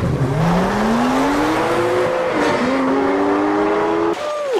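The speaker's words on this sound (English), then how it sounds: "they drove away in their fast cars" Fast cars drive away from a spot abroad, engines revving loudly up through their gears with rising pitch and tires squealing, the roar close and continuous before cutting off at the end.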